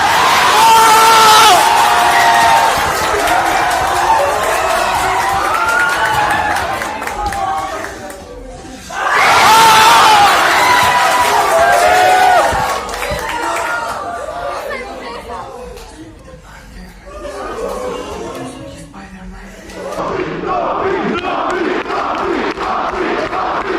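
A packed cinema audience at Spider-Man: No Way Home erupts in loud cheering, whooping and shouting in repeated waves, with crowd chatter filling the lulls between bursts.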